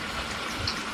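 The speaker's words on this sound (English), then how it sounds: "Now I'm gonna fill them up with some water and empty them" Water runs into containers in a home kitchen during dinner preparation, a steady close rushing pour that fills the whole second with no talk.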